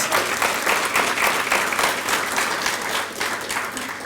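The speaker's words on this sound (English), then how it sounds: "let's warm them up with a round of applause for our students" An audience applauds students at a school district presentation to a service club, a steady, dense round of clapping sustained for about four seconds without talk.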